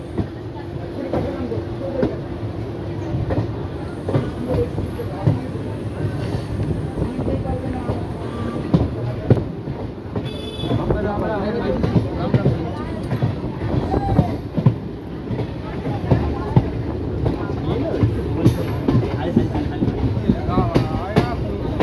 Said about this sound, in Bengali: আমাদের ট্রেন ছাড়ছে বাতাসপুর, আর বাতাসপুরে পরেই হলো সাঁইথিয়া জংশন।